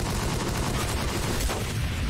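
Sniper and other gunfire in the video game Guns Up!, a dense, steady stream of distant game combat noise with rapid low shots and booms throughout, no talking.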